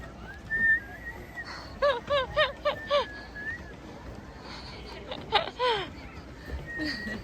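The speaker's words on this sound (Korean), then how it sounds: "그 휘파람 불면 오지 않을까?" A person outdoors whistles repeatedly to call someone back, sharp warbling bursts in short groups over a steady hiss of water and wind, with brief laughter nearby.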